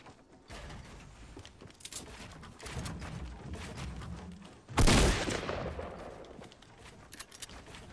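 Fortnite competitive solo gunfight: scattered distant shots and mechanical clatter build up, then one sharp, loud sniper rifle crack lands near the middle and fades with a trailing echo.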